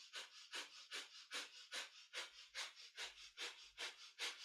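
Breath of fire, the rapid kundalini yoga breathing: a fast, even series of about a dozen forceful breathy puffs through the nose, close and soft, with no talking.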